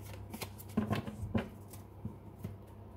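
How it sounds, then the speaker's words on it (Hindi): Tarot cards being drawn from a deck, soft close papery slides and flicks in an irregular handful over a low background hum. "मैंने कार्ड्स निकाल लिए हैं"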